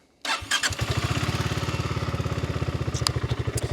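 A BSA Gold Star single-cylinder motorcycle engine starts up and settles into a loud, close, rhythmic idle with an even thumping beat and a slight rev near the end, with no voices.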